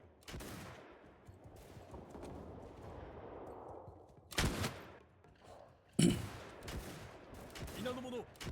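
Gunner cavalry firing guns in a Mount & Blade 2 Bannerlord battle, scattered volleys with two sharp, loud reports standing out over a rumbling field and crackling shots, with a voice talking over it.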